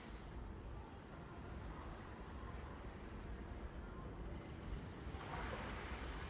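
Cruise ship pool water on the Diamond Princess sloshing up and down as the ship rolls in a windy sea, a steady broadband rush of water and wind with a slight surge near the end.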